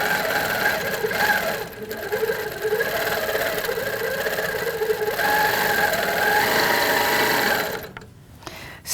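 A sewing machine stitches in a steady, loud, rapid mechanical hum with rhythmic needle chatter, running continuously close by before stopping abruptly near the end.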